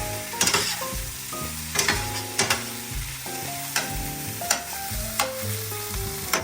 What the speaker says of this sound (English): it's sauteing, it's browning